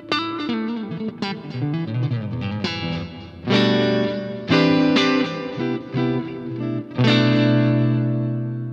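An electric guitar played through a Laney IRT Studio small amp with a multi-effects pedalboard, heard from the amp's direct out at a clinic: distorted, chorused lead lines and ringing chords with reverb, bursts of strummed chords alternating with melodic runs.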